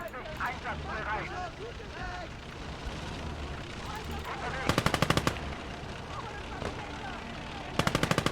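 Gunfire in a WWII strategy video game: two short, sharp bursts of rapid machine-gun fire cut through a continuous murmur of battle noise, while voices talk throughout.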